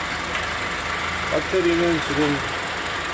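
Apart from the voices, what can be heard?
Kia New Carens car engine idling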